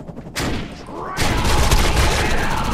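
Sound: Vopblast rifle gunfire in the video game Defiance

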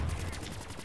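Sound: gunfire in video game Black Ops 3 Zombies

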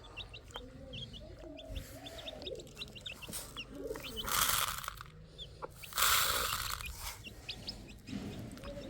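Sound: pigeons and chickens near feed

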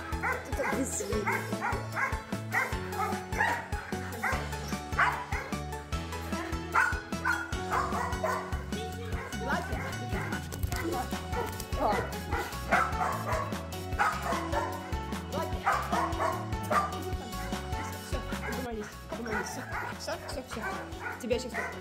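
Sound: dog barking and whimpering

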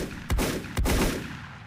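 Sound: shotgun firing in the video game Volcanoids

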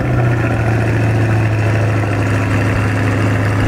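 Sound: sports car engine starting and idling

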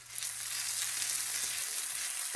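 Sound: onions and butter sizzling in a pan

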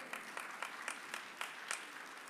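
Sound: audience clapping

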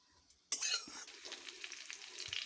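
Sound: stirring potatoes in a pan

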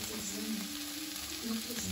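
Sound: flour frying in a pan

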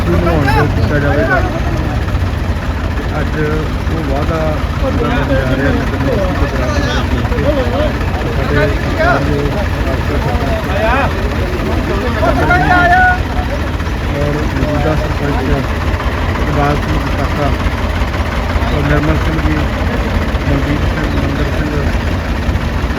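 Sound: tractor engine idling

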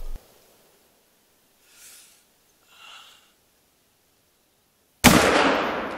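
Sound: hunting rifle shots in video game theHunter: Call of the Wild

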